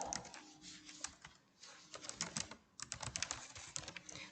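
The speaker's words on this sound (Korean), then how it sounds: "플레이봇 이렇게 타이핑 하시고요" Rapid keystrokes on a computer keyboard, steady clicking with a brief pause midway, close and fairly quiet.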